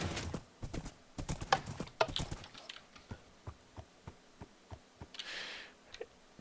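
A horse in the Minecraft video game clip-clops along in a steady run of sharp hoof taps, quick at first and then evenly spaced, with a brief breathy snort near the end and no talking.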